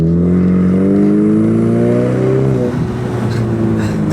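A Ford Mustang EcoBoost's four-cylinder engine drones loudly and close, rising in pitch as it accelerates, then easing off with a brief dip before steadying.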